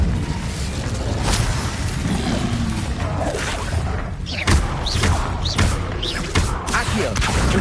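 Incendio fire spell cast repeatedly in Hogwarts Legacy, heard as bursts of whooshing flame and thuds mixed with other combat effects in a busy game fight.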